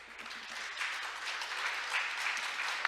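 Warm applause from an audience at a maritime week conference in Korea greeting a university president, moderately distant, building slightly and holding steady over a few seconds.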